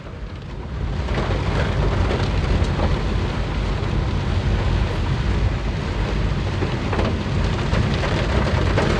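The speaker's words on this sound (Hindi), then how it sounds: "बारिश ने ऐसा कहर ही मचाया हुआ है" Heavy monsoon rain pours down on an empty Church Road in Siliguri, a dense, loud and unbroken hiss of downpour that holds steady throughout.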